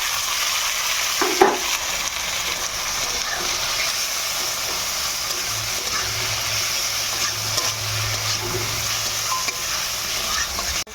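Chopped tomatoes frying in a pan with a steady loud sizzle, stirred now and then with a scraping spatula, close and continuous.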